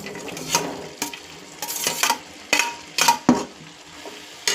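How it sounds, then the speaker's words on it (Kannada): Vegetables and masala for a village-style vegetable bassaru are stirred in a pan, the spoon giving repeated scraping clinks against the metal in an uneven rhythm over a steady soft sizzle. "ತರಕಾರಿ ಹಾಕಾದ್ಮೇಲೆ ಮಸಾಲೆ ಎಲ್ಲ ಚೆನ್ನಾಗಿ ತರಕಾರಿಗೆ ಚೆನ್ನಾಗಿ ಹೊಂದ್ಕೊಳ್ಳೋ ರೀತಿಯಲ್ಲಿ ಇದನ್ನು ಚೆನ್ನಾಗಿ ತಿರುಗಿಸ್ಕೋಬೇಕು"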